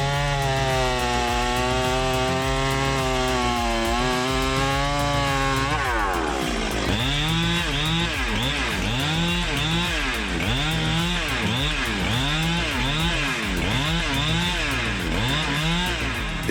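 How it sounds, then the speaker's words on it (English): Husqvarna 395 XP and Stihl MS382 chainsaws cut into a large tree, a loud continuous engine whine that drops and bogs as the chain bites wood, then rises and falls in repeated revving pulses. "with the power and reliability of the Husqvarna 395 XP and Steel M S382 chainsaws, you truly achieve something astonishing."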